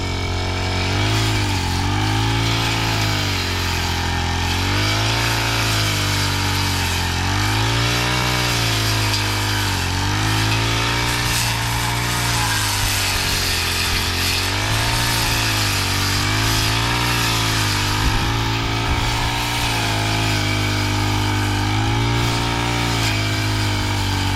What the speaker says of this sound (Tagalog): ang ginagrass cutter niya mga kasinag